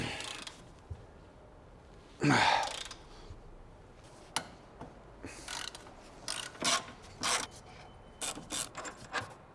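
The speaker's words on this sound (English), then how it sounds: "Now we're going to replace the ball joint, so we need to remove this nut and bolt here." Ratchet working on the ball joint nut and bolt of a BMW E39 530i Touring's suspension, sounding as a quiet, close series of short clicking bursts and metallic scrapes with pauses between strokes and one louder rasp early on.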